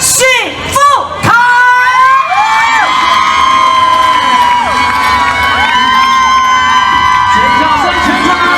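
A festival crowd at a Zhongli Ghost Festival arts show cheers, whoops and screams loudly as a singer is welcomed, with shrill shouts sustained throughout and musical tones sounding underneath.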